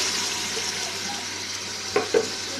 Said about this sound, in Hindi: और अब मैं ये जग वाला भी पानी सारा शामिल कर दूंगी